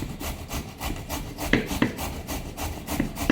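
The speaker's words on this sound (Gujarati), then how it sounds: "અને આપણે દૂધીને ખમણી વડે ખમણી લઈએ। આ રીતે આખી દૂધીને છીણી લેશું" Rhythmic, steady scraping as a bottle gourd is rubbed against a hand grater for halwa, repeated rasping strokes close up with no voices.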